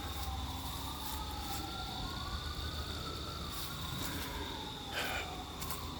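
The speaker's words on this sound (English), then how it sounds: "With those sirens blaring" Emergency vehicle sirens blare outdoors, wailing tones sweeping up and down continuously at a steady, fairly loud level across the whole stretch, with traffic noise beneath.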